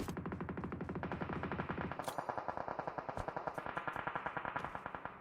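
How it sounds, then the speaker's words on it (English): Rapid bursts of automatic gunfire in the mobile battle royale game PUBG Mobile, a dense sustained stream of shots at first, then a steadier, slightly sparser rhythm of crisp reports with faint distant pops. "I hear a lot of gunshots"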